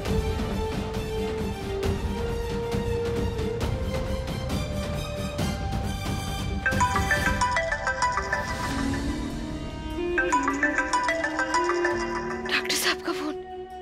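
A phone ringtone chimes repeatedly in a patterned electronic melody, moderately loud, over a steady background of other sound.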